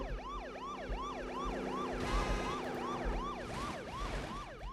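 A police siren in the Car Simulator 2 video game wails in a fast, repeating rising-and-falling pattern, steady and fairly loud over the low rumble of a car engine, with no talk.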